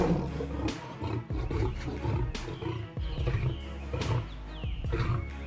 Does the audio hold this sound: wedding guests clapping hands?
no